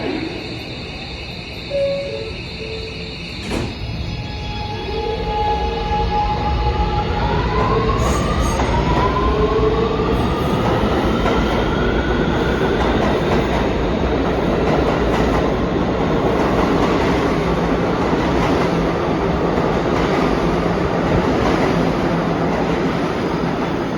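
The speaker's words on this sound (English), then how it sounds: "This is the 207th Street bound express train." A New York subway express train rolls along loudly with a steady rumble, wheels squealing and sliding up in pitch as it picks up speed, with rail clatter throughout.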